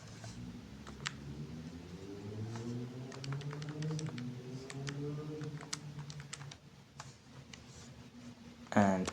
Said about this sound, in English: I'm just going to type this into the calculator.